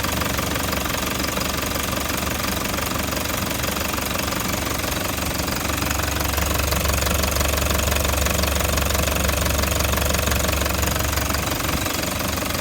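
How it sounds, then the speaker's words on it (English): A car engine runs continuously close by, a loud, dense mechanical clatter with a rapid knocking rhythm and no voices. "Let's go out and have a listen under the engine bay."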